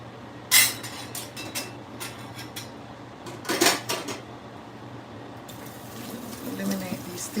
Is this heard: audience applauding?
no